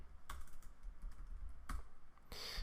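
Code is typed on a computer keyboard, faint and close, with a few sharp isolated key clicks separated by pauses over a low steady background hum.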